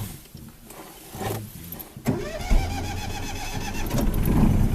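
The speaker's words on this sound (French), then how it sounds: "On reconnaît tout de suite le bruit du flat twin." A Citroën Dyane's flat-twin engine cranks from a push-button starter and catches, then settles into a loud, steady, throbbing idle close by, with no talking.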